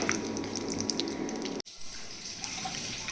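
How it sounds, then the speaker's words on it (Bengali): Dried lentil dumplings (dal bori) fry in a pan with a dense, close sizzle that breaks off sharply midway, then continues as a quieter crackle. No voices. "বড়িটাকেও একটুখানি লাল লাল করে ভেজে আমি উঠিয়ে রেখে দেবো"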